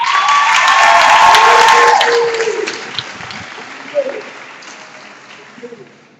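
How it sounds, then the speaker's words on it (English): Around seventy graduates applaud and cheer in a school gym at a 2023 graduation ceremony, loud clapping and whoops for about two seconds that quickly taper off, with a voice or two and scattered claps trailing behind. "So a round of applause for yourselves."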